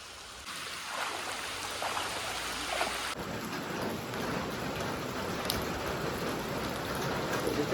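Heavy monsoon rain in Konkan pours in a dense, steady hiss of drops hitting surfaces. It is close and continuous, and it gets louder and fuller partway through.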